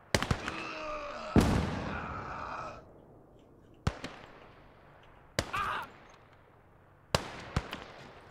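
Grenade and gunfire blasts in the World War II strategy game Gates of Hell: a big booming burst trails off into rumble, followed by several sharp, distant cracks spread across the stretch, with no speech.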